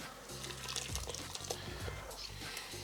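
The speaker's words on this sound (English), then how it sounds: "I'm just going to run this through a little mesh strainer." Tomato basil soup poured through a small mesh strainer, a steady, close liquid pour with soft splashing and trickling that runs for a few seconds.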